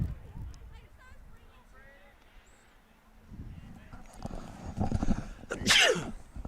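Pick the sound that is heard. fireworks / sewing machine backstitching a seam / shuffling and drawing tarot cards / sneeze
sneeze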